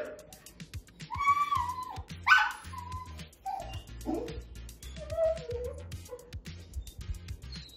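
A hyper dog whines in frustration with rising and falling whimpers and yips, broken by small scuffles, fairly close and alone without talk.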